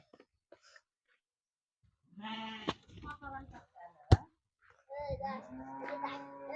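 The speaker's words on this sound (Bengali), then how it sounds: "রোজার একটা ছাগল আছে ছয় বের আবার একটা ভেড়াও আছে" Bleats from a goat and a sheep come in short, nasal bursts between quiet gaps, close by, with a voice talking in the background and a sharp knock partway through.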